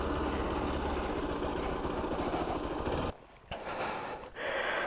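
A Bajaj Pulsar 200 NS motorcycle idles nearby with a steady low engine rumble, followed by a short burst of rougher, broken noise near the end.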